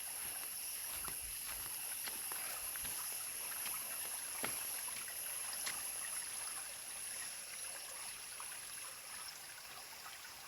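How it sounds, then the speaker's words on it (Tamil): Water streams steadily out of a waterfall in dense forest near the Ambanadu Hills, a soft continuous rushing and trickling at moderate distance with no voices. "இந்த நீர்வீழ்ச்சி வந்து உள்ளேருந்து தண்ணி வந்துக்கிட்டே இருக்குது"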